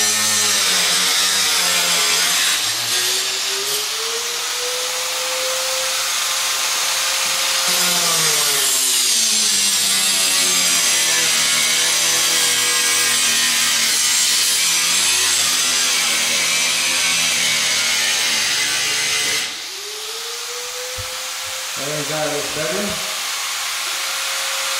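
A power saw cuts open a wooden floor during a house renovation, a loud sustained whine that rises and dips in pitch over harsh cutting noise, pausing briefly before starting again.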